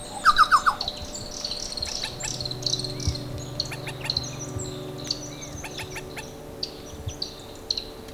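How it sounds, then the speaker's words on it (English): Birds sing and chirp in forest treetops amid a dense chorus of insects and crickets, with a bright trilling call at the start and scattered tweets throughout, no voices. "the birds that created an incomparable musical environment"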